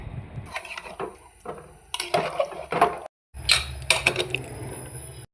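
Water poured into a cooking pot of a vegetable dish with tomato, a few short splashing and clattering bursts close by with a brief silent gap, no talk.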